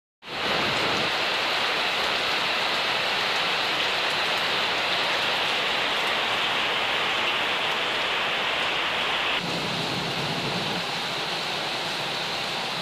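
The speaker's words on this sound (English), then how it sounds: "It's the rain season and I'm fine with it." Steady, dense rain pouring down during the rainy season in Bonito, Brazil, a loud continuous hiss that dips slightly near the end, with no voices.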